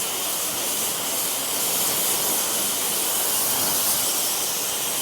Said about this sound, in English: now I'm spraying everything off